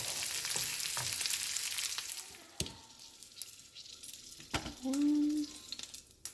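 Jalapenos, two garlic cloves and a little onion hit a hot pan with a close frying sizzle, then sharp knocks and clinks of utensils against the pan as the hiss continues.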